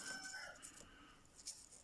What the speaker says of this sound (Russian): петухи песни поют